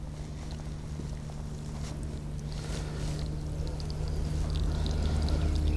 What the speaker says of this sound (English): We drain off that water.